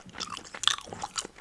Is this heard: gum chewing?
yes